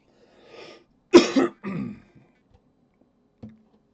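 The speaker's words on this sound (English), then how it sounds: "Sorry for the coughing again." A few close, harsh coughs in quick succession, then a faint throat noise after a pause, otherwise quiet.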